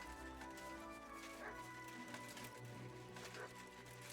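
Dog in the medieval video game Kingdom Come Deliverance II barking and whimpering, short yips and whines over soft ambient game music.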